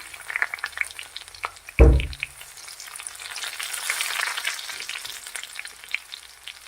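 Crushed garlic and dried red chillies fry in hot coconut oil. A dull thump as they drop in is followed by a rising, close, bubbling sizzle that holds steady.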